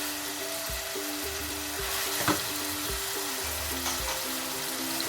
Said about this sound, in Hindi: इसको हम बहुत अच्छी तरह भून देंगे ताकि प्याज और अदरक लहसुन अच्छी तरह इनकॉर्पोरेट हो जाए